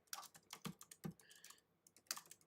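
Rapid keystrokes on a computer keyboard during a podcast livestream, a steady run of sharp close clicks with a short pause in the middle before the typing resumes.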